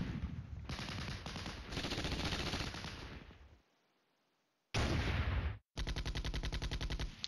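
M1 tanks firing in the war game Flashpoint Campaigns, with dense rapid bursts of loud gunfire and machine-gun chatter that break off briefly before a second sustained volley.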